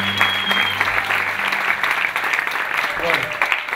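An audience applauds at a lecture on transcultural music in Latin America, the clapping dense and steady throughout, with a brief voice heard near the start.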